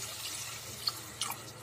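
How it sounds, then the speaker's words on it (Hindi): Water poured into toasted rice in a cooking pot for mushroom and pea pulao, heard as a soft, steady splashing pour with a couple of brief drips, close and fairly quiet, with no talking. "करीब 2 कप ही इसमें पानी डालेंगे, या 2 कप से थोड़ा सा कम"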